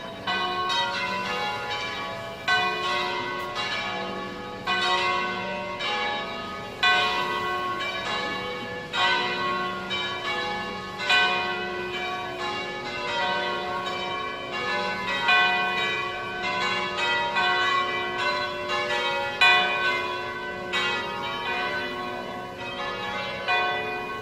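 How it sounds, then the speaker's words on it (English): Church bells in Vernazza, Cinque Terre, peal continuously in an overlapping, irregular rhythm, bright and ringing, with no voices. "The bells are ringing"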